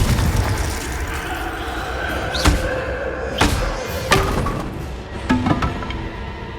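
Repeated Confringo fire spells are cast in Hogwarts Legacy, landing as four or five heavy thuds and blasts over a constant bed of in-game ambience.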